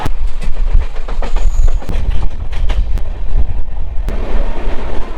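The Paharia Express runs on the Kolkata to Digha route, with a loud, close rattle of carriages and sharp repeated wheel clacks over a steady low rumble.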